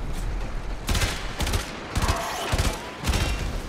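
Rapid bursts of gunfire in the Warframe action role-playing game, several loud volleys of shots in quick succession separated by brief pauses, with no talking.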